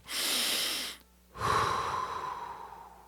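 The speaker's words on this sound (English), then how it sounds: "Before you squeeze the trigger, take one more second and breathe." A person takes a deep, audible breath close to the mic, a long inhale and then, after a brief pause, a slower exhale, as a calming step before squeezing a rifle trigger on a whitetail deer hunt.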